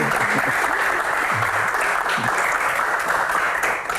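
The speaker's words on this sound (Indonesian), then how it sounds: "kita berikan tepuk tangan untuk Panglima Mudik kita" A studio audience applauds steadily at a televised Q&A panel session in Indonesia, dense clapping filling the whole stretch at constant loudness before tapering slightly at the end.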